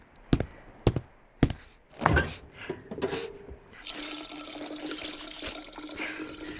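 Water is poured into a drinking vessel after a few clunks and taps, the liquid running steadily for a few seconds, close and fairly loud, alone without talk.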